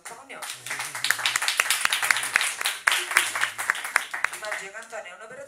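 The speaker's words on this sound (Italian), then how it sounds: "un applauso Antonio." An audience in a working-class neighbourhood gathering applauds Antonio, an operator and rap lover, with sharp, uneven claps building over a few seconds while a voice talks over them.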